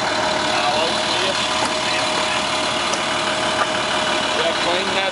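The engine of a 2002 Fleetwood Discovery 38P motorhome idles close by, a steady, even drone that holds throughout without change in pace or level.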